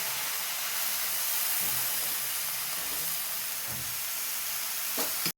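Spinach stirred in a hot wok, a loud continuous sizzle and hiss of frying with occasional soft scrapes of the spatula, close up and steady, no voices.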